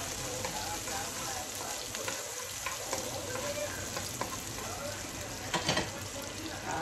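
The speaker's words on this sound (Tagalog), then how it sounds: "Mag-isa muna tayo ng sibuyas." Onions sauté in a hot pan, a continuous close sizzle with occasional stirring scrapes, cooking for ginataang crabs.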